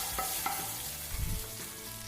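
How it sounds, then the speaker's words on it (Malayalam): Mustard seeds splutter in hot oil as a tempering for a green plantain and green gram curry, several soft pops and a low sizzle close by, with no voices. "കടുക് പൊട്ടിച്ച് നമുക്ക് ഇതിലേക്ക് ചേർത്ത് കൊടുക്കാം."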